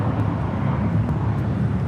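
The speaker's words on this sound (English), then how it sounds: "This is JetBlue Airways Flight 100 taking off to Fort Lauderdale on an A321" Jet engine roar from a JetBlue Airbus A321 taking off from LAX, bound for Fort Lauderdale, heard as a steady, loud, broadband rumble with no talking over it.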